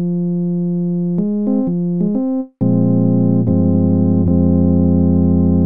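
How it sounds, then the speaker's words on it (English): A Reason Grain synthesizer sub-oscillator holds a loud, steady electronic tone that steps through several brief pitch changes, cuts out for a moment, then returns at a lower pitch and shifts again. "And now we should have a simple sine wave."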